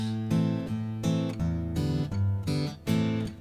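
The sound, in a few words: guitar fingerpicking, thumb playing root bass notes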